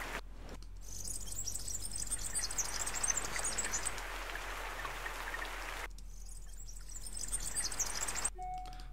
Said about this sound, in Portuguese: Alguns birds.